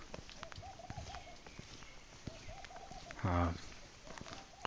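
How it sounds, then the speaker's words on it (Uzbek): Outdoors after rain, a bird gives repeated soft cooing calls at a moderate distance, with a brief louder rustle or knock partway through. "Qushlarning ovozi eshitilayotgan bo'lsa"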